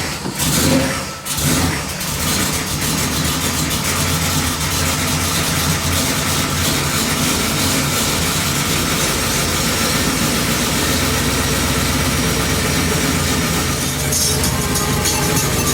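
A 1973 Chevy Impala engine cranks, catches and settles into a loud, steady rough idle that runs continuously close to the microphone.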